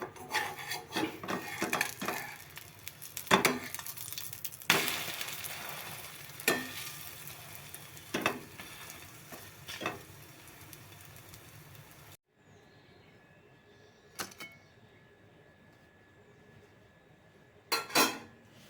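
Egg poli frying in a pan and being flipped: steady soft sizzle with scattered scraping and knocking clicks, then a quieter, near-silent stretch broken by a few sharp taps.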